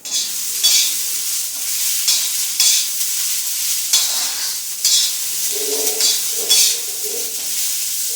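Fresh pigeon peas dry-roasting in a pan, with a steady sizzle and repeated scraping stir strokes at a close, moderate level. No voices are heard.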